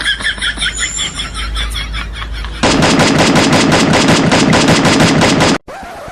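Gunfire from the video game Free Fire: a burst of rapid automatic shots starts partway through and runs loud and continuous for about three seconds before cutting off abruptly, preceded by quieter rhythmic game sounds.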